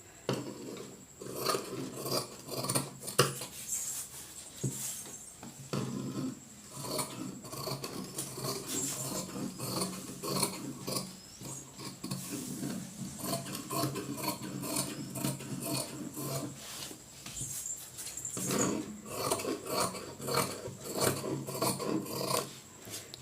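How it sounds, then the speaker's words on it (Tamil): Scissors cut through blouse fabric during tailoring, producing a steady series of close, rasping snips and rubbing strokes with short pauses between runs, and no talking. "இப்போ நம்ம வந்து கட்டிங் பண்ணி எடுத்துக்கலாம்."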